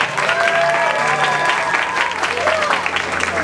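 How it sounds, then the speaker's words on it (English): An audience at a costume contest walk-on claps and cheers steadily for a few seconds, a dense, fairly close wash of applause with some voices mixed in. "Round of applause, yes for Teeny."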